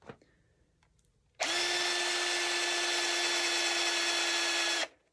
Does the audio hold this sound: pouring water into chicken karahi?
no